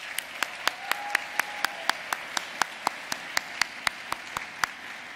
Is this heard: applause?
yes